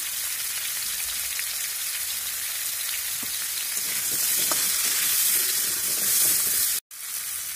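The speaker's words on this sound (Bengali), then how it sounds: "এখন তরকারিগুলো তেলে ভেজে নেব। লবণ হলুদ দিয়ে দেবো।" Vegetables fry in hot oil with salt and turmeric, giving a steady, dense sizzle throughout with faint crackles, a slight swell near the end and a brief cut just before the close.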